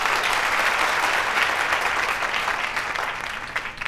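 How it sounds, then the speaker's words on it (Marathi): An audience at a Marathi talk show applauds, a steady dense clapping from start to finish that fades slightly at the end. "तर सगळ्यात आधी टाळ्या वाजून स्वागत करूया"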